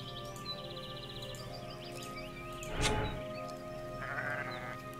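A sheep in the video game Grim Legends 2 lets out a single short bleat midway, heard against a steady game soundtrack with faint bird-like calls.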